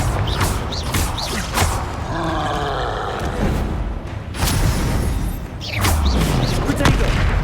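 Confringo fire spells burst in the Hogwarts Legacy video game, with loud booming blasts and crackling magical effects in quick succession, alongside a spoken voice and other combat sounds.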